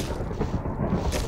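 A deep, rolling rumble of thunder or distant gunfire in the modded Minecraft game Tekkit, loud and sustained through the whole stretch with heavy low-end roar and a slight swell near the end, no voices over it.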